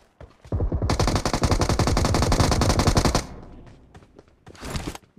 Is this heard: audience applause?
no